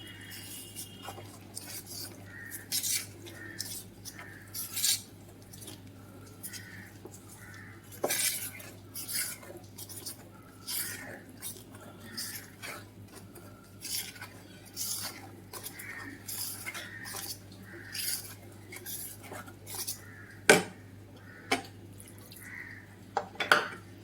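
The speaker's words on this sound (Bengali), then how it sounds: "অল্প অল্প করে দুধ মিক্স করব।" Milk goes bit by bit into eggless strawberry sponge cake batter as a utensil stirs and taps against the bowl, giving soft, irregular clinks and wet mixing sounds over a low hum, close and quiet.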